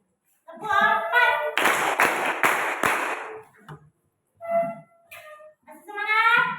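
A class of young pupils claps in rhythm during an icebreaker counting game, a burst of four or five crisp synchronized claps close by, with a teacher's voice before and after.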